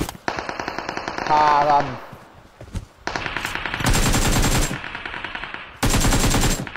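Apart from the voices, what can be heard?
machine gun fire in a video game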